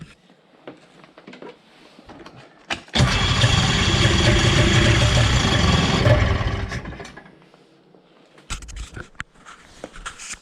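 Engine of a 1991 Ski-Doo Formula MX snowmobile, unused for a while, cranking hard in one loud roaring burst of about four seconds that fades out without catching, with quieter mechanical clicks and shuffling before and after.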